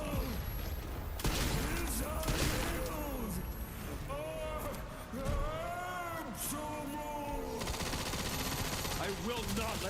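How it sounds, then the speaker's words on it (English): Gunfire in a Resident Evil video game, repeated rapid shots and bursts mixed with game music and voices, with a person talking over the action at moderate loudness. "I'm just shooting at him."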